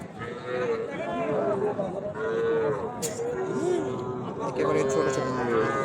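Young heifers low repeatedly at a busy rural cattle market in Joypurhat, Bangladesh, their drawn-out moos overlapping, some near and some farther off, amid crowd chatter and nearby voices talking.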